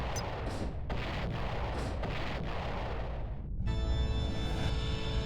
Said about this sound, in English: I threw 3 grenades at it.